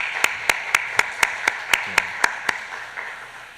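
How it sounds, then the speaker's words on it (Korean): A congregation at a Friday prayer service claps in praise, about a dozen even, evenly spaced claps in a steady rhythm that fade toward the end, with no talking. "우리 하나님께 영광의 박수 올려드리도록 하겠습니다."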